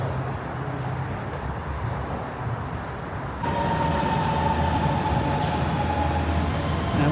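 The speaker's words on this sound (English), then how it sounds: "Now that would be the Green Line train, which is actually painted green." A Chongqing metro Green Line train, its steady rumble jumping louder about halfway through as it draws close, with a sustained tonal whine riding over the continuous rolling noise.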